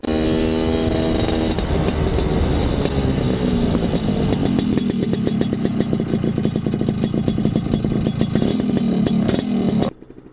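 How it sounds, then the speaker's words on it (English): A Lambretta scooter fitted with an anti-dive disc brake rides at about 60 km/h and brakes to a stop, its loud, steady two-stroke engine note close by, settling at the end to a brief idle. "I ride 60 kilometers an hour and I break down to a standstill"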